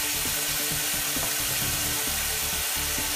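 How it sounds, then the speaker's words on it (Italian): Spring onion set over the flame on a stove, a steady loud hiss and sizzle filling the space with faint stirring clicks, no one speaking. "metto il cipollotto sul fuoco a bollire"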